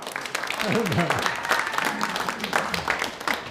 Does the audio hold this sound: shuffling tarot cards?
no